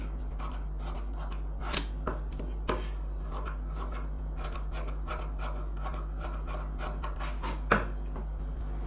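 Scissors snipping away extra blouse fabric, a few crisp, close cuts and slicing rasps spread over a steady low hum, with no talk.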